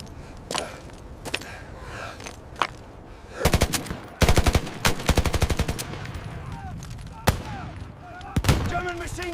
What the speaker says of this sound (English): German machine guns open fire from above!